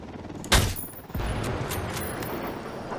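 Gunfire rattles in the Ghost Recon Wildlands video game as a helicopter comes under attack, with a sharp loud burst followed by a sustained roar and scattered shots continuing throughout.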